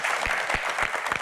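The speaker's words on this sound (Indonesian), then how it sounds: "tepuk tangan hadirin sekalian" Audience applause for a panelist being introduced at an evening Q&A panel event, steady dense clapping throughout with no talk over it.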